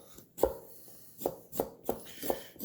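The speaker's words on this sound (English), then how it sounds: "I'm going to peel the ginger using this spoon here." Ginger being peeled with a spoon for dan dan noodles: five distinct scraping strokes spaced about a second apart, each a short rasping burst, close by with no talking.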